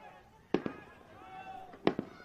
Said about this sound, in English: Oh, a little bit of fireworks on the right-hand side.